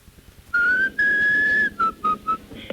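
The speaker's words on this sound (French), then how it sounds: "Vas-y siffle, vas-y siffle." A person whistles a short tune alone: a long, steady, slightly rising note, then three brief chirped notes, clear and close with no talk over it.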